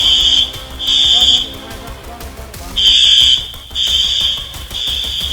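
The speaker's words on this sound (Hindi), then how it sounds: "बिल्डिंग्स में पड़ी दरार और भूकंप के बजते अलार्म से लोगों में दहशत का माहौल है।" An electronic alarm rings inside a building in Myanmar after an earthquake, loud piercing beeps in long repeated bursts separated by short gaps, with a reporter's voice talking underneath.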